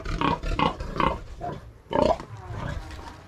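A nursing sow on a farm grunts repeatedly in short, loud, close bursts, several grunts in a row with brief pauses and a continuous low pen noise underneath.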